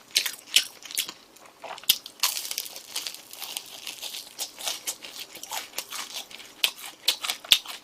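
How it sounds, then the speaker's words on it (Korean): Kimchi being eaten up close, with repeated crisp crunches and wet chewing bursts in an irregular rhythm, loud and close with no talking over it. "계속해서 저는 김치 먹고 있고"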